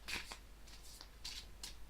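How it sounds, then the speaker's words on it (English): Tarot cards are shuffled by hand in short crisp bursts, about four quick riffling flutters spaced across a couple of seconds, close and quiet with no talk. "I'll shuffle a little bit more."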